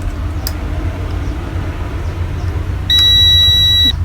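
A multimeter gives a single steady electronic continuity beep of about one second while testing a car horn pin wire, loud and close over a low rumbling background hum.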